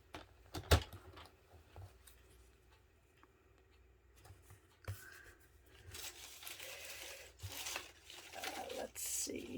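Scissors snip through a strip of pumpkin pie cardstock while trimming it down for a handmade fall card, giving a few close, crisp cuts and papery rustles over faint room noise.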